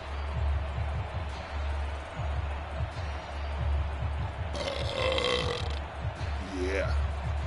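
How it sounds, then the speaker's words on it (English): A loud belch bursts out during a Madden football video game session, standing out over game sounds and speech-like noise, roughly in the middle of the clip. "That's the burp of all burps."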